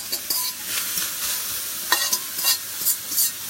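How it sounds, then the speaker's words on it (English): Onions, garlic and ginger are dry-fried in a pan without oil, giving a bright crackling sizzle with quick scraping stirs. The sound is close and continuous, with no talking. "Fry it without oil as well."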